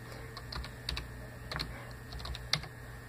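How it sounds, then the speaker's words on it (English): Keys on a computer keyboard are tapped in short, irregular clusters, close and fairly quiet, with a few sharper clacks standing out against a low background hum. "you can actually type in the search bar right here"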